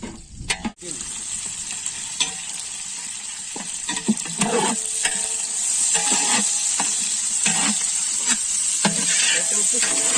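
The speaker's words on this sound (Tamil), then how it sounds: "கருவேப்பிலை, வெட்டி வச்சிருக்கிற வெங்காயத்தை சேர்த்துக்கலாம்." Curry leaves and chopped onions frying in a pan give a loud, steady sizzle with intermittent stirring scrapes and clanks, the hiss building slightly as it goes.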